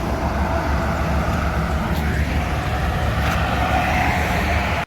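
An MPM bus speeding past on an open straight road, a loud continuous engine and tyre roar close by, with traffic noise throughout and a horn-like tone near the middle.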